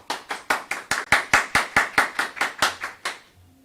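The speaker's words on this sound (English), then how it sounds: "Let's have a round of applause for Lauren Teal." A student audience applauds a homecoming queen candidate at a high school senior homecoming court event, about fifteen crisp, evenly spaced claps in a steady rhythm, nearby and fading out at the end.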